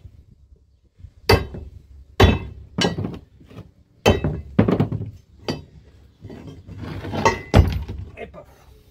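Sharp metallic strikes of a chisel against a seized brass fitting on scrap metal, roughly eight hard blows in an uneven rhythm, close and loud, with clinks and rattles between hits.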